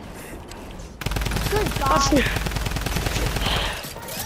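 Rapid automatic gunfire in the Fortnite video game, a dense, steady stream of shots that begins abruptly after a quiet second and runs loud to near the end, with a voice exclaiming over it.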